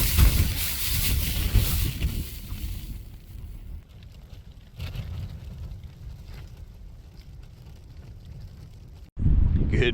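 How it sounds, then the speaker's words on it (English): Strong gusts of wind buffet and roar against a tent, rising and falling in loud, rushing waves. "Oh, come on, wind, just die down a little bit"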